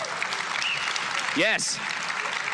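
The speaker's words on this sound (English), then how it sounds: "worthy of applause" Applause from a convention crowd at a live comic-drawing panel, a dense steady patter heard under a spoken voice, with a brief louder vocal shout in the middle.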